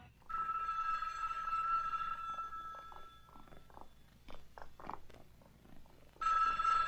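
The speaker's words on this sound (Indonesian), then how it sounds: "ada telepon bukannya diangkat, didiamkan saja" A telephone rings with a steady electronic tone, stops while scattered clicks and soft knocks are heard, then rings again, moderately loud and close, with no one talking.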